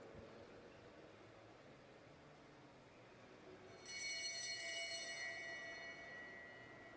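A lap bell rings for a rider at the Oceania Track Cycling Championships in a Brisbane velodrome. Its bright, metallic ringing sounds faint and distant for about a second and a half over a low, hushed arena ambience.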